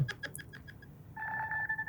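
The Nothing Phone ringtone named Crossing plays as a quick series of short electronic chime notes, then settles into a sustained two-tone synthetic pattern, clear and close with no talking.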